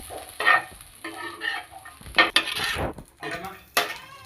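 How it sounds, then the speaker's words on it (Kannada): Clattering utensil stirs and pan clanks over a soft oily sizzle as ingredients fry in oil in a pan for holige saaru, with bursts of scraping every second or so, close and moderately loud. "ಆಯಿಲ್ ಹಾಕ್ಕೊಂಡು ಅದನ್ನು ಮತ್ತೆ ಫ್ರೈ ಮಾಡ್ಕೊಳ್ಳಿ."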